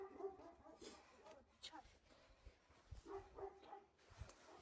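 A dog barking outside around an old village house with a storm-damaged roof: a few sharp barks and yips come and go in short bursts, with faint voices in the background.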